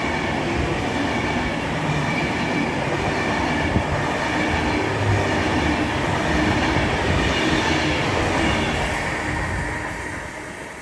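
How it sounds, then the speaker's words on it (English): An Avanti West Coast Class 390 Pendolino passes through a platform at Milton Keynes Central station, a loud continuous rush of wheels and rail noise that holds steady and then begins to fade at the end. "Next train passing on platform 4 is going to be an Avanti West Coast Class 390 Pendolino bound for London Euston"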